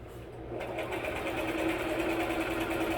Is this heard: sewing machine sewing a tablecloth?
yes